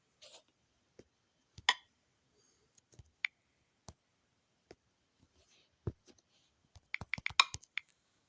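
Typing on a computer keyboard: sparse, quiet clicks spread irregularly, then a quicker burst of keystrokes near the end, close and faint with no talking.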